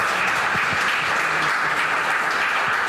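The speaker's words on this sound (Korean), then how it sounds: "힘찬 박수로 맞아주시면 감사하겠습니다" Steady, dense applause from an audience welcoming a speaker at an event, clapping continuously at an even level for the whole stretch.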